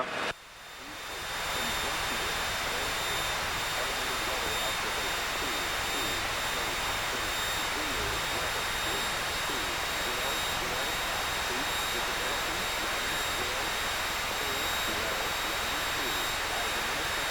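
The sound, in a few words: Piper Cherokee 180 airplane engine during takeoff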